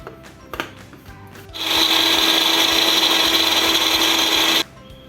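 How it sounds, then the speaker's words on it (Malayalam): A blender grinds mint chutney with a loud, steady whir for about three seconds, starting and stopping abruptly after a few faint clicks. "നന്നായിട്ട് നമ്മളൊരു ബ്ലെൻഡറിലിട്ട് നന്നായിട്ട് അടിച്ചെടുക്കുക."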